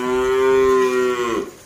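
A single long cow moo at a livestock market selling breeding calves, a steady drawn-out bellow held for over a second before trailing off, close and loud with no talk.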